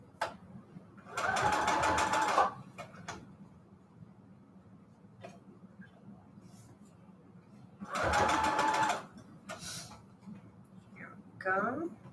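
An electric sewing machine stitching bedsheet ruffles and pleats, running in two short bursts of rapid whirring needle clatter about a second long, separated by quiet pauses with faint handling noises.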